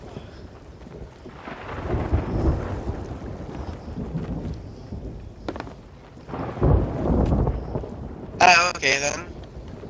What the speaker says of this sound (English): There's a huge storm right next to us.